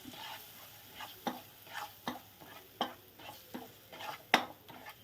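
Chilli, turmeric and coriander powders stirred in an oiled pan for a Kerala fish curry, with a soft steady sizzle broken by repeated sharp spatula scrapes and taps against the pan, close and moderately loud.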